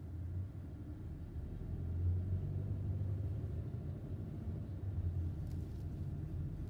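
Low steady engine rumble and road noise from the inside of a car driving slowly along Riverstone Drive through a residential neighborhood, continuous and fairly soft with no talk.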